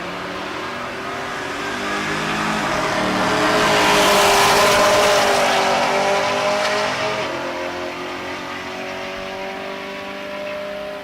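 A drag race pass between a Nova and a naturally aspirated small-block car at Tulsa Raceway Park: loud engines roar and build to a peak mid-run, then fade as the cars pull away, with a brief tire squeal.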